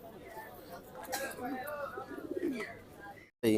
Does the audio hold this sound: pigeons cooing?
yes